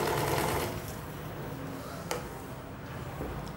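A sewing machine stitches suit fabric with a steady, close, continuous mechanical whir, broken by one brief tick midway and running without any voices.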